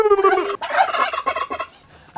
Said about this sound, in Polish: Spróbujemy wywołać indyka.